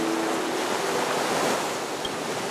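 Broad, steady ocean surf washes continuously in a Honkai Star Rail game cutscene, a full, even roar with a faint tonal trace early on and no voices.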